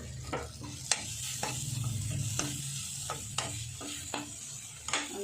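Chopped tomato with pink Himalayan salt being stirred as it fries in a pan for a poha snack, with a soft steady sizzle and sharp spoon scrapes and taps at irregular intervals, heard close up with no talking.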